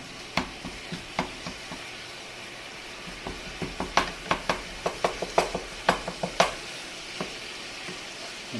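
Chopped, seasoned meat frying in a pan is stirred for enchiladas. A steady sizzle runs under irregular sharp scrapes and knocks of the utensil against the pan, which come faster in the middle and then thin out.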